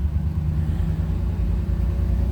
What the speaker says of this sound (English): Nice sounding car